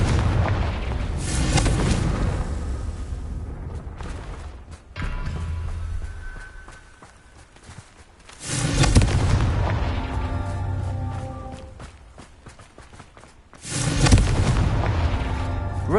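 Repeated Confringo fire-spell blasts in Hogwarts Legacy, heavy booming explosions arriving in three loud bursts separated by quieter rumbling gaps, with no talking over them.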